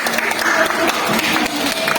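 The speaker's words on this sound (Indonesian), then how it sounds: "Tepuk tangan." A classroom of students bursts into dense, continuous applause during a lesson about banks, a steady wash of many hands clapping at once throughout.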